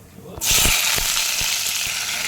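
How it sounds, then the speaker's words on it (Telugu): Onions hit hot oil in a pan for a bottle gourd and tomato curry, bursting into a loud, steady sizzle after a brief quiet start, with faint low knocks underneath. "ఒకసారి ఇవన్నీ మంచిగా ఫ్రై అయ్యాక"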